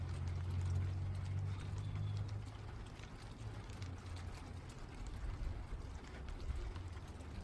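Motor oil pours into a Toyota Sequoia engine in a steady, low gurgling stream that runs continuously for several seconds at moderate loudness.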